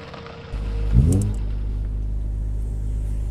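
A car engine kicks into a low, loud rumble, then revs up in a rising surge before settling into a steady, heavy drone as the car accelerates.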